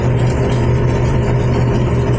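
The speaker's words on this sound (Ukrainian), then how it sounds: "Обороти двигуна 1800, ну, можна 1900." A Don 1500B combine harvester's engine runs at about 1800 rpm, a steady, loud, close drone with a constant low hum and no speech.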